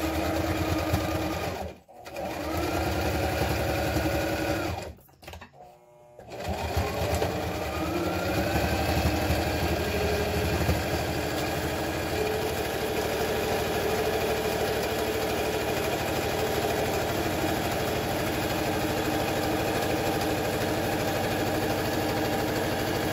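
A sewing machine stitches a surgical mask with elastic and bias tape in a long, steady, loud run. It stops briefly twice near the start, then hums on continuously.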